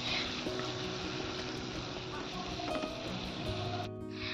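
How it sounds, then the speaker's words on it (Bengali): Hilsa fish heads frying in hot oil give a steady, loud broadband sizzle throughout, with faint scraping and utensil sounds, cutting out near the end. "ইলিশ মাছের মাথাগুলো ভেজে নিচ্ছি"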